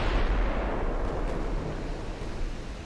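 Naval gunfire and shell hits in Ultimate Admiral Dreadnoughts, a dense rumbling barrage of booming impacts, loud and sustained across the whole stretch.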